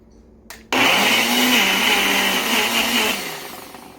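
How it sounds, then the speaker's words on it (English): A Ninja BL480D personal countertop blender runs on its pulse setting, a loud whirring motor burst after a click that holds for a few seconds, then winds down. "So the first I will test is the pulse setting."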